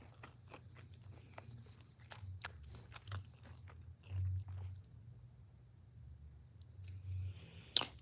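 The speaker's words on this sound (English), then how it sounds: "Sorry if you hear me chewing." Someone chewing a bite of taco close to a microphone, with soft, irregular crunching and mouth noises over a low steady hum, and a sharper click near the end.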